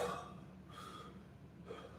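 A slow, deep breath drawn in through the mouth ahead of playing a harmonica, a soft airy inhale near the listener, steady and fairly quiet, with a slight catch near the end.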